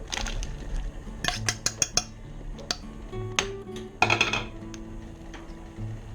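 Meat goes into a pan of Spanish rice with scattered metallic clinks and scrapes of a utensil against the cookware, quiet and close, with no talking.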